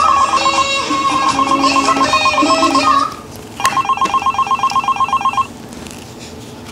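A telephone rings as a call home goes out, a loud electronic ring of rapid repeated pulses in two bursts separated by a short pause, then fading to quieter background.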